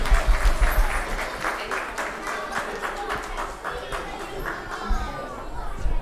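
A class of students claps together in a lively, uneven burst with a few voices and rustling underneath, close and fairly loud.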